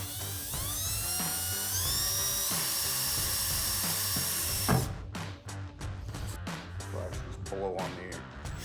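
Power drill bit boring through sheet metal on a 2015-2023 Dodge Charger trunk for a Hellcat-style rear spoiler install, a steady high whine for about five seconds that stops abruptly, followed by quieter clicks and handling noises.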